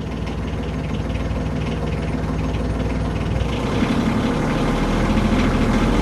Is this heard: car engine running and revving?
yes